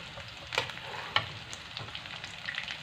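Onions frying in a pan while cabbage curry is being cooked, a steady soft sizzle with a few sharp stirring clicks and scrapes, close and fairly quiet, no voices.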